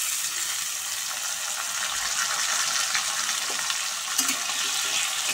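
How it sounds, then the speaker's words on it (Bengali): Diced potatoes and chopped tomatoes frying in a pan while being stirred, a continuous sizzling hiss with faint scraping and clinks of the spoon, steady and close with no talk. "5 মিনিট নাড়াচাড়া করে আলু টমেটোটা একটু ভেজে নিয়েছি হালকা।"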